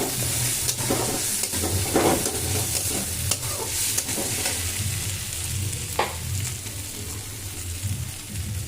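Tomato, onion, ginger and garlic frying together in a pan, a loud steady sizzle with repeated scraping stirs and occasional sharper clinks close by.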